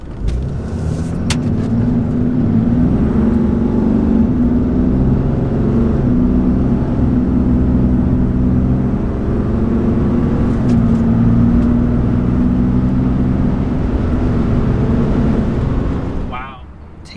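A 2020 or 2021 RAM High Output Cummins diesel pickup accelerates hard, a steady loud low engine drone holding for about sixteen seconds before cutting off abruptly, with wind rumble throughout.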